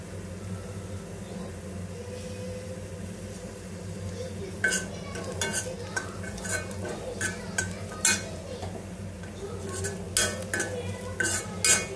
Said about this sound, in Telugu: ఇది సాఫ్ట్గా అయ్యేంత వరకు ఫ్రై చేసుకోవాలన్నమాట